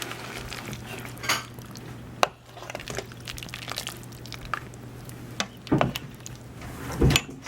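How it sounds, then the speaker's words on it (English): Soft cooked cauliflower being stirred in a pot of keto soup: a spoon knocks and scrapes against the pot in scattered clinks, with a sharper clack near the end over a low steady hum. "It just breaks up when you start stirring it up."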